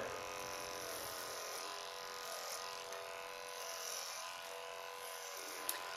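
Electric hair clippers fitted with a number 4 guard buzz steadily while shaving an undercut, a continuous close-up motor whine holding for the whole stretch with a small click near the end.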